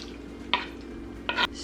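Pickles stirred into a hot pot of bacon cheeseburger soup, with two quick scraping spoon strokes against the pot over a soft steady simmer, close and clear.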